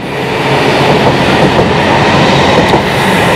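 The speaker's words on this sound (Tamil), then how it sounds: "ஸோ இப்போ வந்து நமக்கு ட்ரெயின் வந்துருச்சு" Indonesian high-speed bullet train on the Jakarta to Bandung line roaring past, a loud, steady rush of wheel and air noise filling the whole stretch with no voices.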